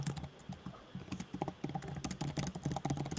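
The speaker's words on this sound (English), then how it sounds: "I hear some typing." Someone types steadily on a computer keyboard near an open microphone during a live online conference call, a quiet, rapid, irregular clatter of key presses that continues throughout with no voices over it.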